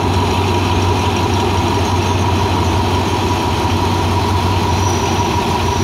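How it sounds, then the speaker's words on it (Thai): An Alsthom 4401 diesel locomotive pulling out of Bang Sue Junction, a steady loud low diesel drone with a constant throbbing rumble and broadband noise throughout, no voices. "กำลังเร่งเครื่องออกแล้วนะครับ"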